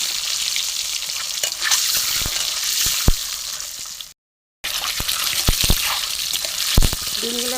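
Four duck eggs frying in hot oil in a pan over a wood-fired stove, a steady crackling sizzle with occasional sharp spatula clinks, close and loud, briefly cut to silence midway, no voices.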